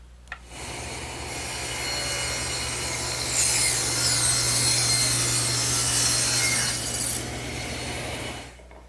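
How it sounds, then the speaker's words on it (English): A table saw with its blade tilted to 45 degrees rips a bevel through wood, a steady loud whining cut that swells louder midway and runs nearly nine seconds with no talking. "all I'm going to use is the table saw. I've tilted the blade to 45 degrees"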